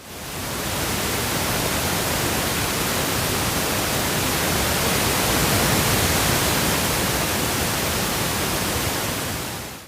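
Steady, broadband hiss of pink noise running unchanged from start to finish, full and even with a slightly deeper, softer tone than white noise.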